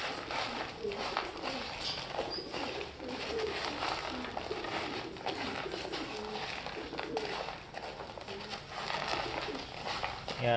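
Show pigeons in a breeder loft coo steadily amid dense, constant background noise, soft repeated calls running through the whole stretch without talk.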